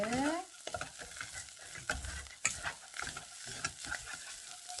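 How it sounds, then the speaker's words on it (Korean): Ingredients for Korean beef porridge (jangguk-juk) stir-fried in a pan, with soft sizzling and repeated scraping and stirring of a utensil against the pan, close and fairly quiet. "이렇게 볶아요. 눌지 않게."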